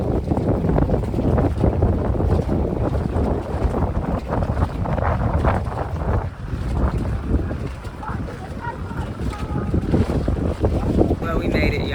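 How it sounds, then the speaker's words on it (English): Strong wind roars steadily across the microphone, a loud continuous rushing blast with gusty buffeting throughout. "It's so windy down here."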